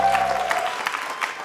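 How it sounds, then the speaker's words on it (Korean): An audience claps for a winner at a televised military quiz show. The clapping is moderate and scattered, with a sustained tone at the start fading under it. "자, 박수 한번 주시죠."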